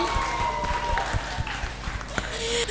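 Audience at a campus panel discussion on sexual violence cases applauds, a brief spread of scattered clapping with the crowd's noise filling the room.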